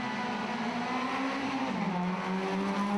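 Suzuki Swift Sport race cars roar off the start at Mondello Park, engines climbing in pitch and dropping at each gear change, a loud blended pack of motors with no speech.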